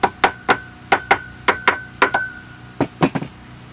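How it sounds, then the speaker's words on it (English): Light mallet taps seating a six-piston brake caliper part during a Subaru WRX brake conversion, about a dozen sharp close metallic knocks in an irregular rhythm with brief ringing after each. "Take a mallet hammer, lightly tap it all around so that way it is seated."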